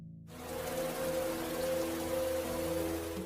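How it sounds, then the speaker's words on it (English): Heavy rain pours down in a steady, dense hiss that starts abruptly and stays loud and even throughout, with a low tonal hum underneath. "At that moment it rained heavily"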